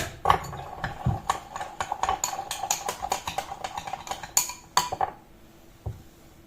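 A utensil clinks repeatedly against a container while sugar and yeast are stirred into warm water, rapid irregular taps that stop near the end and are followed by a final soft knock.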